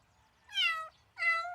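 A cartoon kitten stuck in a tree gives two clear, high, drawn-out meows in quick succession, close and alone against near silence.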